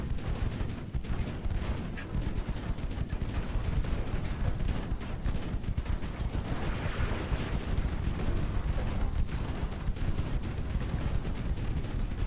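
Warship artillery in Ultimate Admiral: Dreadnoughts keeps up a dense, rumbling barrage of low booms and shots over a constant heavy background roar.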